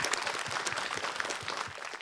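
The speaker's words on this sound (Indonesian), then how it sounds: "Tepuk tangan dulu buat Ustaz Syam luar biasa." An audience applauds in a studio during an Islamic talk show, a dense, steady wash of clapping for about two seconds.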